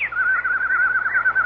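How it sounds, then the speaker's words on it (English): A bird sings a clear, rapidly warbling whistled phrase that trills up and down, loud and close, with no other sound around it; the song is attributed to a rare nightingale. "That's a very rare nightingale."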